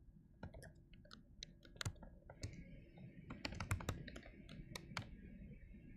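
Typing on a computer keyboard close to the microphone: irregular quick keystrokes and clacks in uneven bursts over a low background hum, with no talking.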